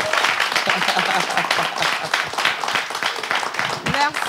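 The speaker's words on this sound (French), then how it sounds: "C'est sur les applaudissements pour votre représentante, ça." A studio audience claps and applauds for a contestant on a French-language show, a dense, steady patter of many hands clapping throughout, with a voice briefly heard near the end.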